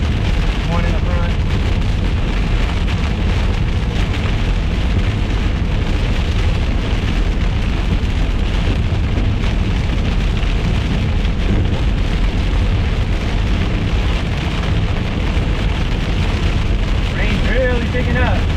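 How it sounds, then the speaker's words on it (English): Heavy storm rain drums on a car windshield during a storm chase in southern Oklahoma, a loud, dense, continuous roar with steady low rumble for the whole stretch, and voices faintly under it. "How loud is that rain with the GoPro right on the windshield"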